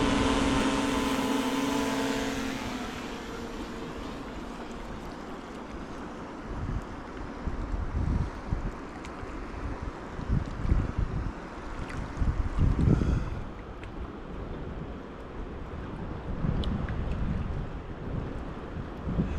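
Gusty wind blows outdoors beside a river during autumn fly fishing, rumbling and buffeting the microphone in uneven surges, with a louder rush at the start.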